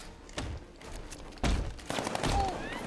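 Gunfire in the video game Batman: Arkham Knight: a few scattered, thudding shots crack out at irregular intervals over a busy in-game background.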